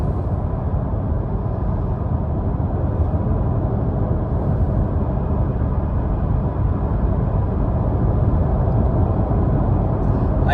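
Steady, loud road roar from huge tires on a highway, heard from inside a car with all windows closed and the convertible top up; a continuous low rumble without breaks.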